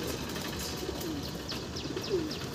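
Andhra pigeon in a loft cooing softly, two short low coos over a steady background hiss with faint chirps from other birds.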